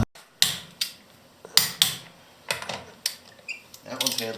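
Metallic clanks and ratcheting taps ring out as lug nuts are tightened on a BMW E30 wheel, a string of sharp irregular hits with short pauses between them, close and fairly loud.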